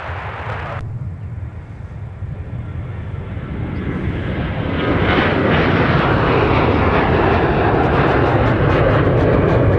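Airliner taking off from runway 30 left at Minneapolis–Saint Paul airport, a loud sustained jet engine roar that swells and grows fuller partway through, with no voices.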